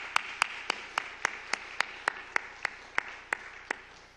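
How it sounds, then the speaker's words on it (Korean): Congregation in a Korean church at Sunday morning worship claps in a slow, steady rhythm of about fifteen sharp claps, fairly faint and even, with no talking over it. "우리 하나님께 영광의 박수 한번 올려드릴까요?"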